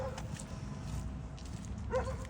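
Dogs yip and whimper faintly during an outdoor walk, giving a few short high cries at a distance over low background rumble.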